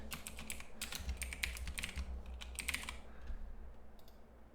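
Rapid clattering keystrokes on a computer keyboard while a password is being changed, close and fairly quiet, in bursts over about three seconds before tapering to a few isolated taps.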